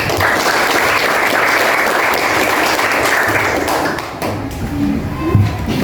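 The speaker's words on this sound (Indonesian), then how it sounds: "Tepuk tangan teman-temannya." Classmates in a school classroom clap together in dense, loud applause that fades after a few seconds, with a few thumps and light voices at the end.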